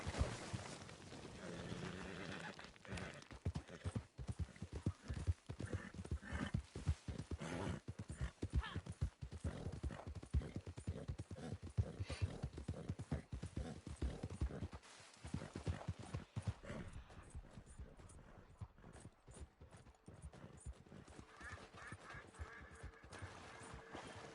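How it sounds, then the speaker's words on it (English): Steady clip-clop of horse hooves trotting close by, a rapid rhythmic clatter that runs throughout, with an occasional faint whinny. "There's somebody's abandoned horse running around."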